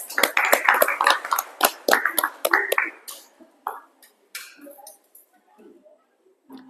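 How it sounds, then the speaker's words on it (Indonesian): A classroom group gives a round of applause to a student team: dense, close clapping for about three seconds, then thinning into scattered claps and fading, with faint voices underneath. "Kita berikan aplaus."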